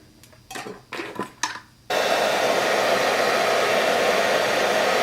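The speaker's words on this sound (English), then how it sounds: "I'm gonna take this and blow dry it." Hair dryer blowing on a lace-front wig, starting about two seconds in with a sudden loud, steady whoosh of air that runs on unbroken after a few brief rustling handling sounds.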